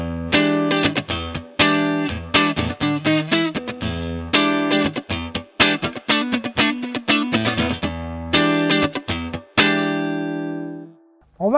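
A Fazley FST118 electric guitar with single-coil pickups plays a bright, clear run of chords and single notes. The strummed and picked attacks are loud and close, and the last note rings out alone before it fades.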